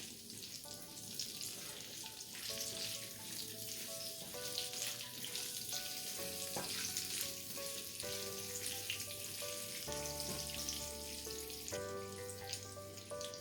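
Chopped onions with a pinch of salt sizzle steadily in a pan for chicken chili, a soft frying hiss running under louder background music with no clear stirring strokes.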